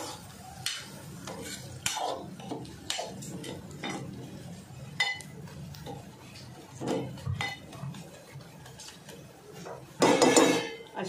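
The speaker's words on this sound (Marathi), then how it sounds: "आता परत जरा मी ढाकण काढलंय आणि भेंडी परतून घेते." Okra being stirred and sautéed in an uncovered pan on a low flame, with repeated scraping and clinks of a spatula against the pan, moderately quiet and close, building to a louder rattle near the end.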